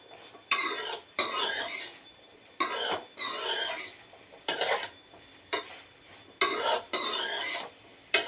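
Ridge gourd frying in a little oil in a pan, stirred in bursts: about eight loud scraping strokes separated by short quiet gaps, close up with no talk.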